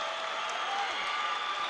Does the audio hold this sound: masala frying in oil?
no